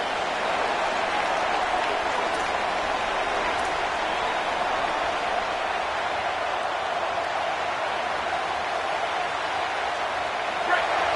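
A football stadium crowd roars steadily behind the home defense during a red-zone stand, a dense continuous wall of cheering noise with no breaks, holding at a constant level throughout.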